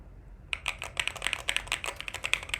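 Rapid typing on a computer keyboard, a steady run of crisp, close key clicks starting after a brief quiet moment, with no talking.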